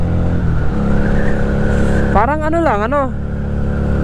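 A motorcycle engine climbs an uphill road in 4th gear with a steady low drone throughout, while a rider talks over it near the mic.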